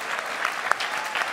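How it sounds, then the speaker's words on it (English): An audience applauds at a State of the Movement address, a brief, fairly dense round of clapping with a few louder individual claps standing out. "while we clap and celebrate that"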